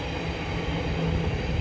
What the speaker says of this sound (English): there's a train there.